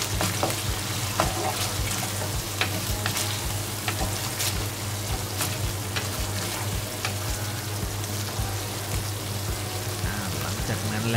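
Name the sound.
Chinese sausage being stir-fried in curry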